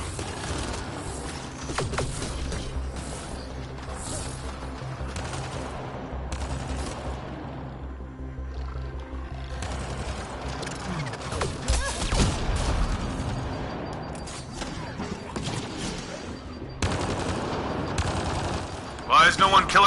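Rapid bursts of automatic gunfire and single shots from Mass Effect Andromeda combat on Insanity difficulty, loud and dense over in-game music and effects, with a heavy burst near the end.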